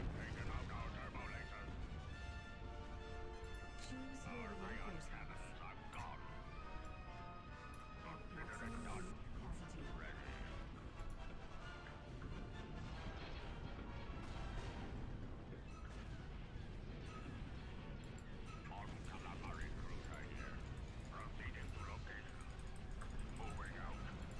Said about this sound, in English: There's so much explosion.